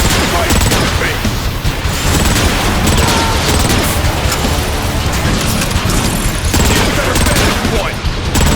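Dense, continuous gunfire with booming rocket blasts and mechanical clatter from the video game Transformers: Fall of Cybertron, loud and sustained throughout, with shouted voices woven into the combat.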